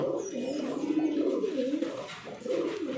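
Soft, continuous low cooing of Lotan fancy pigeons, rolling and throaty, close by with faint background hum.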